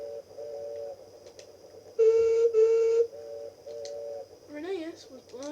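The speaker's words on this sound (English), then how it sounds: "Reneus was blowing his whistle for some weird reason in the distance." A steam locomotive whistle blows from far off in a toy-train railway story, in repeated steady tones with a louder burst in the middle. A voice speaks briefly near the end.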